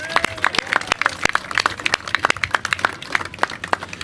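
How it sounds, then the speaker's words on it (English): Crowd applauding on the Coney Island boardwalk in New York at an outdoor mayoral event, dense clapping with sharp individual claps close by, steady for several seconds. "Let's give a round of applause to the people of Coney Island."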